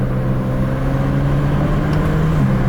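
A BMW 335i with a tuned automatic transmission accelerates, heard from inside the car with the windows down: a loud, steady engine drone that climbs in pitch, then dips briefly near the end as a gear changes.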